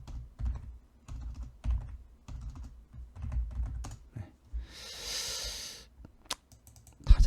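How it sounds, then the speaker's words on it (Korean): Somewhat hesitant typing on a computer keyboard, close and clear, coming in uneven bursts of keystrokes separated by short pauses, with one louder clicking burst near the end. "타자가 살짝 서투르네요."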